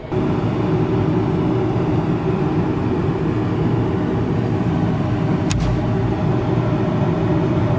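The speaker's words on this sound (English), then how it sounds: "Wait for this blower to come on." A Carrier/ICP rooftop HVAC unit's blower runs steadily, a loud continuous broadband rush and hum held at an even level throughout, with one brief sharp tick near the end and no voices.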